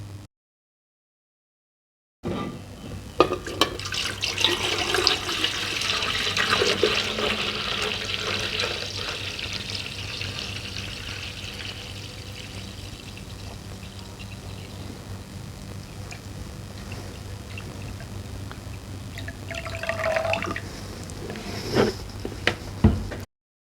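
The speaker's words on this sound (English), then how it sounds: "When filling your container, allow for the displacement caused by putting your rusty items into the liquid." Rustmedic rust remover liquid pours steadily into a container, a continuous broadband splashing rush lasting about twenty seconds at close range with no talking, trailing off near the end.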